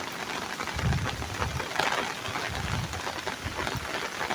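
Steady, dense rain falls outdoors over roads in the Meghna area of Bangladesh, a continuous close wash of drops with a few heavier surges and no voices.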